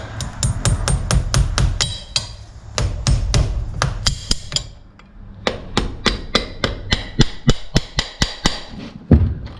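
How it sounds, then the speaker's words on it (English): Sharp metallic hammer strikes ring out as a farrier nails a new shoe onto a Percheron draft horse's hoof, delivered in fast rhythmic runs of blows with short pauses between, close and loud. "These shoes, I can put the 6 nails in."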